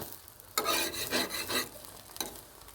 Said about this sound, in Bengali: ভালো করে একটু ভেজে নিতে হবে, একটু লাল লাল বাদামি